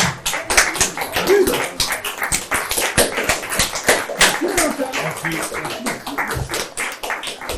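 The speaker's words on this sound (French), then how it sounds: "On peut les applaudir." Small audience claps at an improv comedy show in the Social Bar, a dense, steady patter of many hands at close range lasting the whole stretch, with a few voices faintly underneath.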